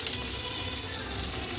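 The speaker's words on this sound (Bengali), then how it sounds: "হলুদ জিরা ফোড়ন দিলাম, লঙ্কা দিলাম" Turmeric, cumin and chilli spluttering in hot oil for a tempering: a steady, close sizzle with a continuous crackling hiss that does not let up, and no voices.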